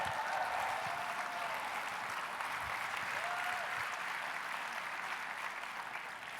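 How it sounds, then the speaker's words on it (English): A conference audience at a Whataburger family reunion gathering claps in steady, sustained applause filling the room for several seconds, with faint voices beneath. "Give the kings of the room a round of applause,"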